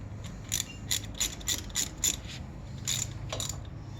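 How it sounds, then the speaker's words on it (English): Ratchet with an H7 hex bit tightening bolts on Volvo S60/V60 brakes, a series of close, moderately quiet clicking ratchet strokes in an even rhythm, then a short pause and a few more clicks, with no talk. "H7 hex bit, and we're just going to tighten these down."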